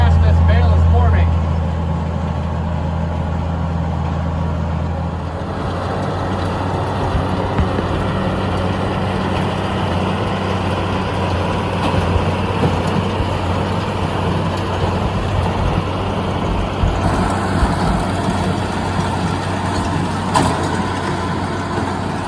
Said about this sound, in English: Let's see just how fast this bale is forming.